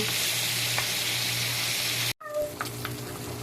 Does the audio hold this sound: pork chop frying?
yes